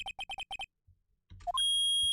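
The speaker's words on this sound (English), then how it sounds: "forgot about that beep at the end. That's horrible. Why is it so loud?" A loud beep in the video game Phoenix Wright trilogy: a rapid run of short, bright electronic beeps, a brief pause, then a rising chime leading into a sustained, piercing tone that fills the end, with no talking.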